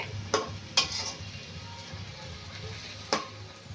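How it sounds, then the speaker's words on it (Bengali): A pan of Bengali lote fish curry is stirred repeatedly to dry off the liquid, with a few sharp utensil scrapes against the pan over a faint, steady sizzle. "এবারে আমি বারে বারে একটু একটু করে এইভাবে নেড়ে দিতে হবে রসটা যাতে তাড়াতাড়ি শুকিয়ে যায়"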